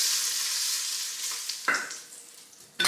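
Short ribs browning in a hot pan give a steady loud sizzle that fades gradually, broken by two sharp bursts of hissing as fresh meat hits the fat.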